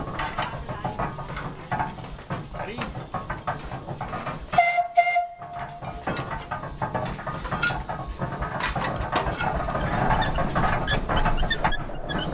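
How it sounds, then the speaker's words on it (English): A 1908 Dolbeer wood-fired steam logging engine (steam donkey) clanks and chuffs with rhythmic mechanical knocking and hissing, a brief whistle-like tone cutting through midway; no talking. "the machine we have behind us is a 1908 Dolbeer steam logging machine"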